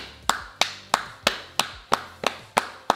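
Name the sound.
clapping with long nails clinking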